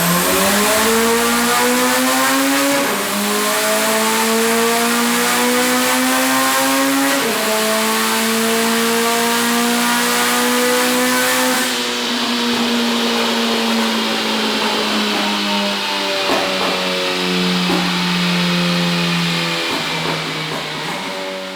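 A turbocharged Ferrari with a K20 engine swap accelerates hard through several quick upshifts, its loud engine note climbing and dropping with each gear change, close and continuous with no voices.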